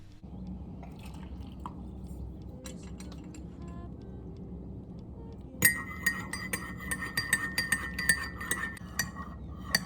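A finished drink is poured into a glass at home, beginning with quiet handling noises and then a run of light clinks and liquid splashing.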